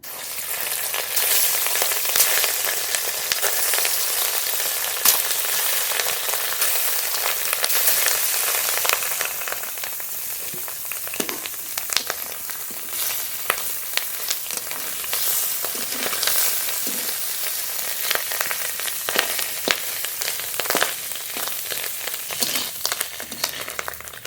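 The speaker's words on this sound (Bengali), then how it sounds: "মাছের ডিম ভাজবো, তার জন্য আর একটু তেল দেবো।" Small pieces of rohu fish roe, rubbed with salt and turmeric, fry in oil with a continuous crackling sizzle scattered with sharp pops, close by and with no talking.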